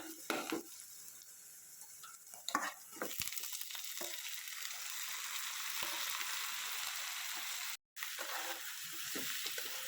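Chicken pieces fry with browned onions in a pan for a Sunday chicken curry, a constant bright sizzle that swells as stirring begins, with a few scraping spoon strokes early and a brief dropout, no talk.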